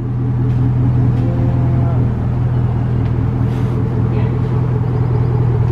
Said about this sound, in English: The idle's a bit louder.